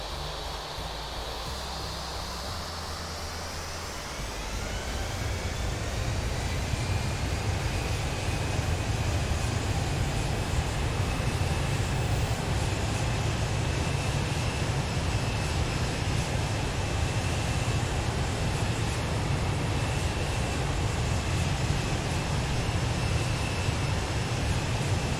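EasyJet Airbus A319 jet engines in Microsoft Flight Simulator 2020 spooling up after a few seconds into a steady, loud broadband roar with a rising whine, continuing unchanged for the rest of the time.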